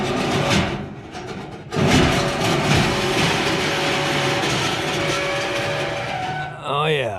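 A faulty HVAC blower runs steadily with a loud, continuous whir and rumble throughout, interrupted by a brief surge partway in while the compressor is also running.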